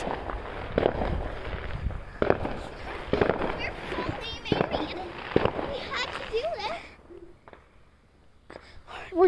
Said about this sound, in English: We're just gonna stand here and watch the fireworks in the sky.